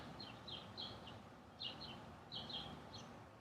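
Faint, distant birdsong in a quiet, misty early-morning outdoor setting: short bursts of high chirps repeating in small clusters over a soft background hush.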